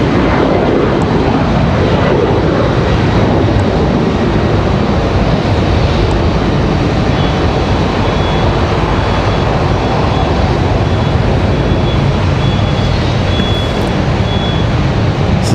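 A Breeze Airways airliner takes off at Raleigh-Durham International, its engines a loud, steady broadband roar that fills the whole stretch without letup, with no talk over it.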